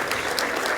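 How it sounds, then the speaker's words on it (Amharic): Mourners at a memorial for an artist applaud steadily in a brief, dense burst of many hands clapping at once, moderately loud and without pause. "ጭብጨባ"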